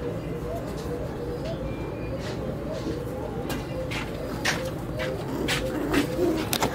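Jafari pigeons coo continuously in a loft, a dense low rolling murmur of many birds close by with occasional sharper flutters and clicks on top.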